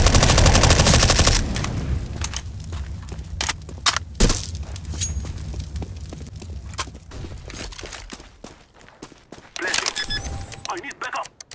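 Counter-Strike: Global Offensive gunfire rings out in sharp bursts and single shots, with heavy rattling fire at the start and scattered cracks later, mixed with footsteps and game noise while players talk.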